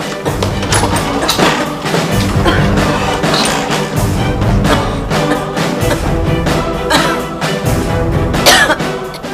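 A person in an Indonesian television drama scene coughs repeatedly, with several loud, harsh bursts spread across the clip over a steady, full background.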